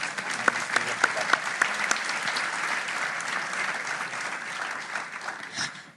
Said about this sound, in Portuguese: Não vamos estar sempre a aplaudir, ok?